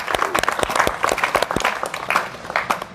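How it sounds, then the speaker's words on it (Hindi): Audience applause at an Earth Day celebration event, a lively burst of individual claps from a modest gathering, close and fairly loud, with distinct hand strikes that fade slightly toward the end. "जोरदार तालियां आप सभी के लिए"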